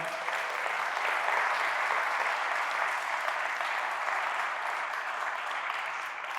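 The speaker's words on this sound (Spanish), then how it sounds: "¿Por qué no un fuerte aplauso a Dios por su palabra?" A church congregation in Mexico City claps long and steadily, a dense, even wash of applause that holds at the same level throughout with no speech over it.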